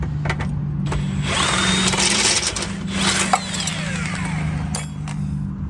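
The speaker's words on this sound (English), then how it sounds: "We're just gonna go ahead and use this little wrench." A power wrench works on the driver-side lower control arm of a Toyota Camry, giving a loud, continuous close-up whir with a few brief clanks during the run.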